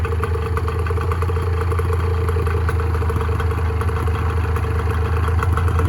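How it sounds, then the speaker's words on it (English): A 1986 Honda NS400R two-stroke motorcycle idles steadily after two years of sitting, a close, continuous buzzy, moped-like drone with light mechanical clatter and no voices. "it's a two-stroke, so of course you gotta love the sound. But they do sound a little moped-ish."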